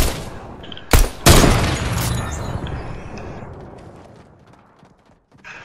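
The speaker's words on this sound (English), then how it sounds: "it doesn't it get annoying with heavy snipers? Where? He's shooting at you." Heavy sniper fire in the Fortnite video game: two sharp, loud cracks about a third of a second apart, then a long rumbling, crackling tail of battle noise that slowly fades to near silence.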